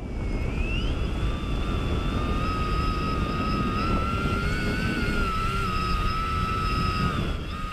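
A VTOL model aircraft in a transition test flight, its motors giving a steady whining hum with tones that slide upward, constant and fairly near over a rushing background.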